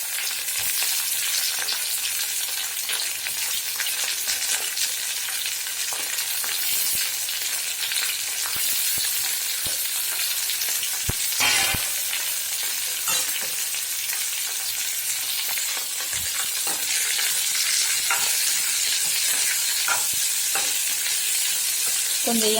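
Sliced bitter gourd sizzles steadily in hot oil with onion, tomato and tamarind in a pan, with a spoon stirring and scraping in occasional clatters over the constant frying hiss.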